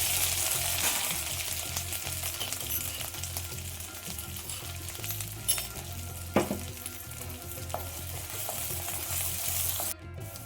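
Ginger, green chilli and cumin fry in about three teaspoons of hot oil in a pan, giving a continuous dense sizzle with a few stirring scrapes and clatters over it.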